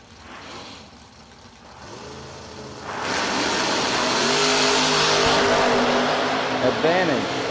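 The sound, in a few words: drag racing cars launching down the strip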